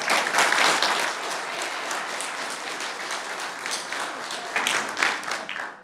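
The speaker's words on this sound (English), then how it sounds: "clapping on either side sometimes is not easy to take" A board meeting audience in the Village of Gurnee claps steadily for about six seconds, a dense wash of many hands with a slight swell near the end, no talking over it.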